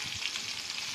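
Onion and chilli frying in a pan with cumin, a dense, steady sizzle with light crackle, close and continuous.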